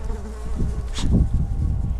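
Flies buzz around continuously in the open air on a mountain hike near alpine lakes and springs, a close, steady insect drone that swells loudly near the middle and persists throughout.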